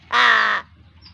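A pet crow gives one loud, close caw, harsh and about half a second long, followed by quiet.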